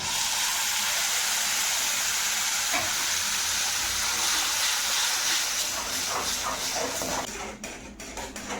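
Boiled tomato paste tipped into garlic frying in a pan while making pizza sauce: a loud, dense sizzle fills the whole stretch, breaking into crackling bursts and settling slightly toward the end.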